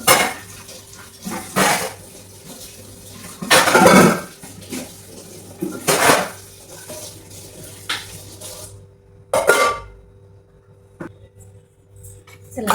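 Milk and tea pots and other metal utensils being scrubbed and washed by hand, with repeated clanks, clinks and splashes in irregular bursts separated by quieter scrubbing.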